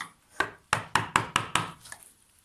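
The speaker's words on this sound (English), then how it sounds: "use it as a guide for the chisel when you chop out the corners" Five sharp chisel chops into wood while cleaning out corners, struck in a quick uneven run and followed by a fainter sixth tap, close and fairly loud with short decays, no talk.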